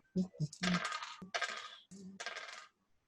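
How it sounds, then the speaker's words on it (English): Dice are rolled during a tabletop role-playing game session. A quick run of light clattering taps and rattles tumbles across a hard surface, faint and close, over a few seconds before settling. "So let's roll my ridiculous dice again."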